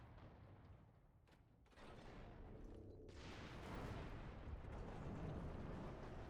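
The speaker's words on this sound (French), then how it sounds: "Il suffira d'un seul tir pour faire exploser les portes." A heavy cannon blast bursts open doors in the Warhammer 40,000: Space Marine video game, a sustained loud roaring rumble swelling after a sharp onset and continuing for several seconds.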